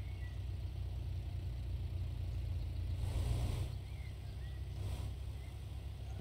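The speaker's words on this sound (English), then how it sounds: "Our tractor's making a lovely sound" A steady low tractor engine drone in the video game Real Farm runs throughout, swelling briefly as if revving harder, with a mechanical hum at high throttle during cultivating and sowing.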